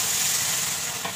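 Potatoes and soybean chunks frying in a pan, a steady close sizzle with a soft scrape of stirring near the end.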